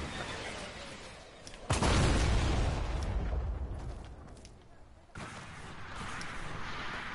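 Fortnite missile explosions hit with a heavy, close blast followed by a rumbling decay, then a second, weaker impact a few seconds later, under a constant low game backdrop.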